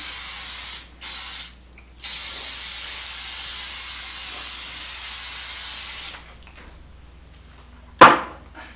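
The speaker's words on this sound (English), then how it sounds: "I'm going to spray my pan with cooking spray." A steady hissing spray of cooking spray into a pan runs for several seconds with two brief pauses, then stops, followed by quiet and a sharp clunk.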